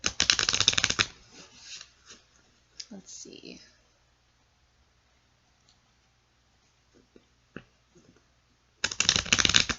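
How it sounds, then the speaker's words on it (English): Tarot cards riffled and shuffled in quick bursts at the start and end, with soft handling clicks between and a brief spoken remark in a quiet room. "One more shuffle."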